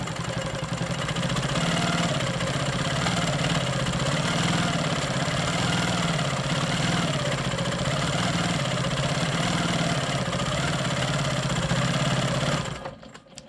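Quilting machine stitching straight lines across a quilt, a continuous steady whirring hum with a fast rhythmic needle chatter, close and even, stopping just before the end.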